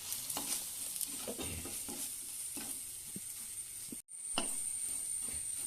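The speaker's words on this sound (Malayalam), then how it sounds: "നമുക്കിതൊന്ന് മൂപ്പിക്കാം നല്ലപോലെ" Spice powders roasting in oil in a pan for a Kerala sardine curry, a soft steady sizzle with scattered scraping and stirring strokes, close and fairly quiet, with no voices.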